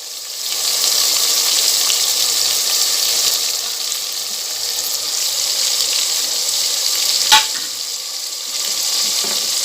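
Garlic paste and mint leaves frying in a pan for a nalli bhindi gravy, a loud, steady hiss of sizzling oil with one brief clink partway through.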